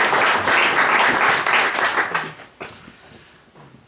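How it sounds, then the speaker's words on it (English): A welcoming round of applause from an audience for a guest speaker on consciousness, full and steady at first, then tapering into scattered claps and fading out. "So if we give a little round of applause."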